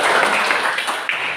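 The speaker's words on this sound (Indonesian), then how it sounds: "tepuk tangan buat Naila." Classroom applause for a student named Naila, a brief burst of many hands clapping together in a school lesson, dense and fairly loud throughout.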